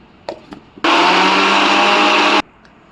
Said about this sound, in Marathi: आता हे आपल्याला मिक्सरला बारीक करून घ्यायचे आहेत।